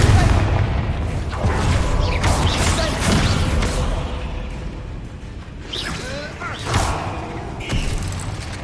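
Fire-spell explosions in Hogwarts Legacy, a series of booming blasts and whooshes layered over dense game combat noise, with a voice speaking over the action.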